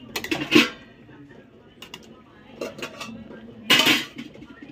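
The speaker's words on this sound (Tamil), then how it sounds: "இப்போ நம்ம அரிசி சேர்த்துக்கலாம்." Soaked rice goes into a cooking pot, heard as bursts of close metal clanking and scraping of a utensil against the pot, with quieter handling noises between.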